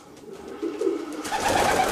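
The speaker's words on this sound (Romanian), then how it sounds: "Acesta este albastru meu 433-007, un porumbel fantastic" A close, loud cooing from a blue racing pigeon in a breeder's loft, a short rising throaty coo swelling over two seconds.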